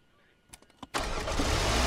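In the video game A Dusty Trip, a car engine cranks with a few sputtering bursts and then catches, settling into a loud, steady running roar.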